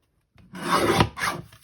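A mini paper trimmer's blade slicing through patterned cardstock, one quick close rasping cut in two scraping strokes after a brief silence.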